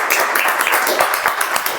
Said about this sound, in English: let's give a good round of applause to them for such an exhaustive report